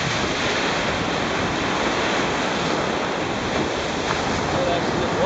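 Ocean surf washing onto a beach on a Baja California island shore, a loud steady roar of breaking waves with wind buffeting the microphone throughout.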